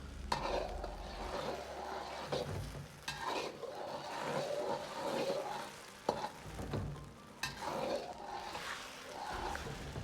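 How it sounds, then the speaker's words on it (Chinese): Egg-coated beef strips stirred slowly in a wok with a metal spatula over gentle heat, a quiet steady sizzle broken by soft scrapes and occasional clinks, close and without speech. "用锅铲像这样转圈，慢慢的推动"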